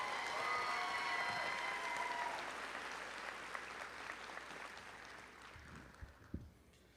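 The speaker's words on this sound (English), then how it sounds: "Let's give him another round of applause." Applause from a crowd at a high school graduation ceremony, steady clapping that slowly fades over several seconds.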